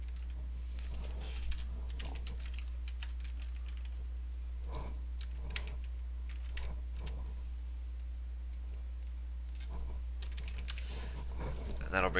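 Computer keyboard typing while entering an IP address at a command prompt, with irregular soft key clicks running throughout over a steady low hum, moderately faint and close.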